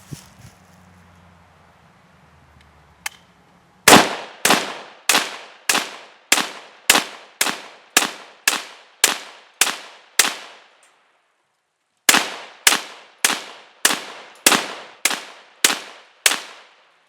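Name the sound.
Ruger Mini-14 rifle firing 20 rounds from a RamLine magazine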